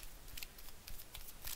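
Quiet, rapid papery riffling and flicking of tarot cards being shuffled, a series of soft crisp clicks in quick rhythm, close by.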